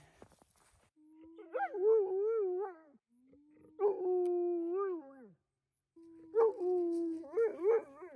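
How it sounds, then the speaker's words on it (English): A dog nearby in remote mountain woods lets out three drawn-out, wavering howl-like barks with short silences between them. "Ah, that's barking."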